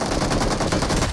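Rapid automatic gunfire from the BGMI battle royale game bursts in a dense, loud, evenly spaced volley over about a second.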